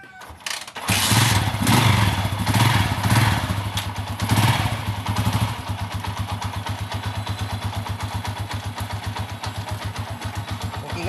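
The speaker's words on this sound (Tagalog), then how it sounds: "maganda yung andar ng ating makina" Motorcycle engine after a tune-up, started with a sharp catch, then a loud, rapid, even putter that settles into a steady, slightly lighter idle close by.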